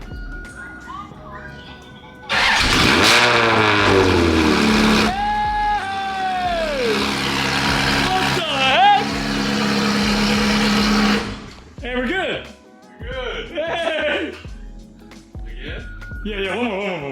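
A Liberty Walk Ferrari with engine problems cranks and fires up into a loud, close, roaring run with rising revs that holds for several seconds before cutting out, followed by people talking.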